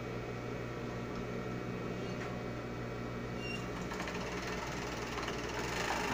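Sewing machine running a straight seam along the shoulders of a child's unicorn dress, a continuous low motor hum that swells slightly toward the end, close and fairly quiet.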